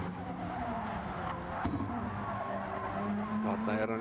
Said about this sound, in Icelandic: Já, það er mikið vælt þarna í dekkjum.